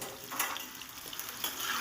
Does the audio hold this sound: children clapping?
no